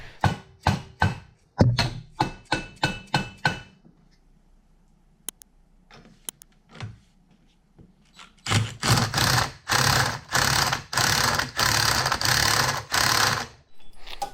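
Impact wrench on an outboard motor, hammering to break the flywheel loose: bursts of rapid rattling rat-a-tat, loud and close, in several short runs at the start, then a quieter pause with clicks, then longer sustained bursts.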